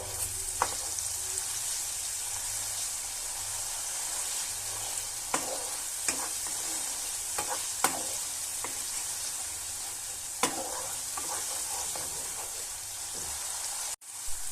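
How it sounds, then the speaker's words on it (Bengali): Cauliflower masala frying with turmeric for niramish phulkopir dalna, a steady close sizzle with occasional scraping stir strokes and clicks, no voices. "হলুদটা এবার সবকিছুর সাথে ভালো করে মিশিয়ে নেব।"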